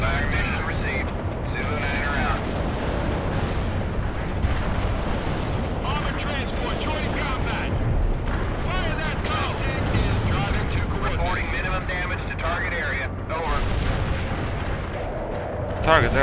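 Artillery barrage in the video game World in Conflict, a dense continuous rumble of booms and blasts with voices talking over much of it.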